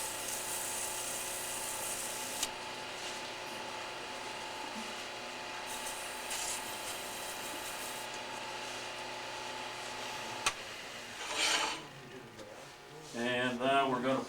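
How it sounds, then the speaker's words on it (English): A wooden ornament being sanded as it spins on a lathe: a steady whirring drone, close and continuous, with a few brief scrapes and clatters near the end. "A little bit of sanding."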